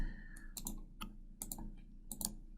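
A few quiet, sharp mouse clicks land at irregular intervals while a computer user applies a setting in radiotherapy planning software, with a soft steady hum underneath.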